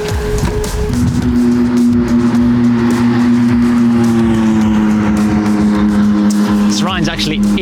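A McLaren race car runs on the Navarra circuit, its engine holding a loud, steady high whine that slowly drops in pitch before a quick burst of revving at the end.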